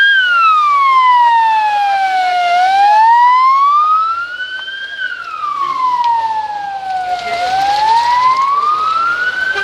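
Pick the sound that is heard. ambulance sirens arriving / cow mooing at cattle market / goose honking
ambulance sirens arriving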